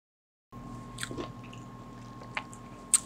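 Almond biscotti dipped in chocolate and sprinkled with salt being bitten and chewed up close: a few crisp crunches and quieter chewing over a steady low hum, with no talking.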